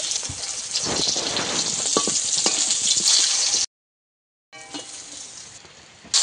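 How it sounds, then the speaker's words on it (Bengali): Rupchand pomfret pieces fry in hot oil, a bright crackling sizzle that cuts off abruptly into silence for a moment, then resumes at a similar level. "একইভাবে এই মাছগুলোকেও ভেজে নেব"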